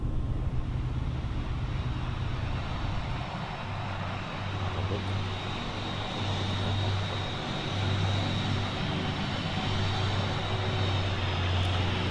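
Ryanair airliner at an airport picked up through a live webcam: a steady broadband jet-engine roar with a low hum, moderately distant and even, with no voices over it.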